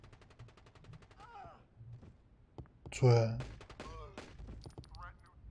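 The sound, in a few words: gunfire in the video game Rainbow Six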